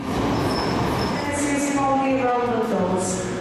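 A London Underground Piccadilly Line train rumbles steadily from inside the car, loud and close, with rising motor whine tones and rail noise, while an onboard announcement voice speaks over it.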